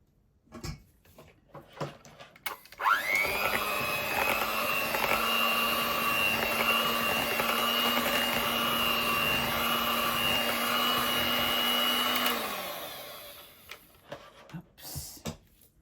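Melted gelatin being mixed into a no-bake strawberry cheesecake mixture by a machine with a steady, whirring motor hum. It spins up, holds for about nine seconds, then winds down, with brief knocks before and after.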